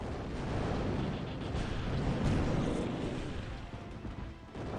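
A missile launch and its explosion in the Zero-K strategy game, heard as a sustained roaring rumble of booming blasts filling the whole stretch, loud and close with no talk over it.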